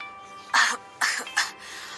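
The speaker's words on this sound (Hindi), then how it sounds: "ऐसा कहते हुए बूढ़ा आदमी एक बार फिर से खांसने लगा।" Three rough coughs from an old man in quick succession, close and fairly loud, separated by short pauses.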